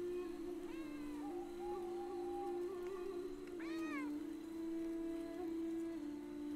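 A cat meows twice in the video game Pentiment, rising, wavering cries that stand out over a steady background hum and a light patter like rain.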